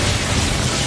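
Casting the Incendio fire spell in the Hogwarts Legacy video game sets off a short, dense burst of roaring, crackling fire that stays loud and even throughout its brief length, with no talk.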